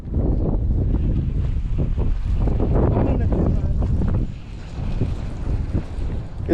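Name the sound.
strong wind on a lake while bass fishing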